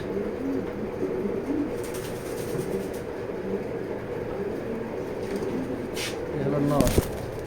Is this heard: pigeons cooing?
yes